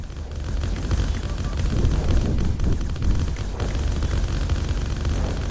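Rapid 40mm cannon fire pounds at a battleship during a space battle in the strategy game Terra Invicta, a dense, continuous barrage of booming shots rolling on at steady loudness with no speech.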